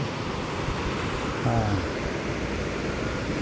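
A rushing river near a rural farm in Marilog, Davao City, heard as a steady, loud broadband roar that fills the whole stretch, with a brief faint voice showing through midway.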